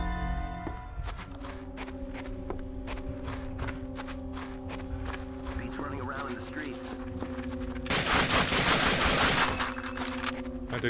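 Rifle fire from an M1 Garand in Call of Duty: Finest Hour on the original Xbox, with rapid shots snapping over a steady tonal game backdrop and a loud dense burst of fire near the end; someone talks throughout.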